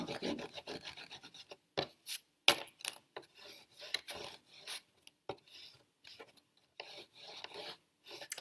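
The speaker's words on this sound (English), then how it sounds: "I'm just wiping my stencil" Cloth rubbing over a craft stencil in short, irregular rasping strokes, quiet and close, separated by brief pauses and a few light taps as the stencil is wiped clean.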